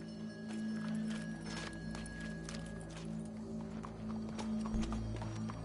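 Horse hooves clop in a steady walking rhythm in a PS4 video game, a little distant and fairly quiet, over a low ambient game hum with faint tones.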